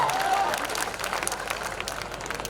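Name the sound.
audience applause at poetry show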